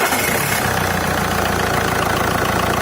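An Alfa Romeo 156 engine idles with a steady, even drone and a faint underlying knock, loud and close with no talk.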